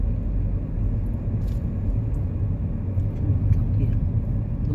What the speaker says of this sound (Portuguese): Um carro ali, ó.